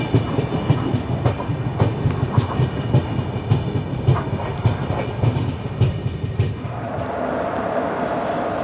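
The Narsapur Nagarsol Superfast Express passes close by as a crossing train, its wheels beating out a rapid clickety-clack rhythm over a heavy rumble that drops off abruptly as the last coach goes by.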